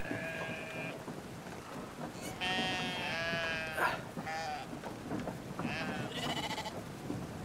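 Sheep bleat repeatedly in the video game Brothers: A Tale of Two Sons, several separate calls over a steady ambient bed with soft rain-like background noise.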